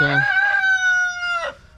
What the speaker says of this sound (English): we do have a whole bunch of different chickens in here